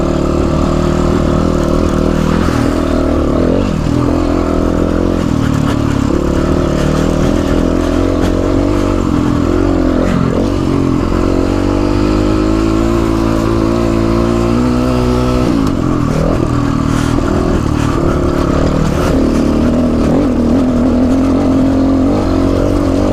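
A GPX FSE300R motorcycle climbs Santa Fe Peak near Montezuma, its engine droning steadily up close and rising and falling in pitch as the rider accelerates and shifts, with wind rush throughout.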